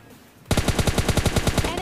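Rapid automatic bursts from an S12K shotgun in a video game, about a dozen loud, evenly spaced shots fired in quick succession after a brief quiet start.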